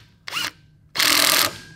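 A power tool drives home the crankshaft bolt on an off-road mini bike with a 30 hp big-bore Tillotson engine and a billet washer: a short whirring burst, a pause, then a longer, louder whir, close and clear with no talk.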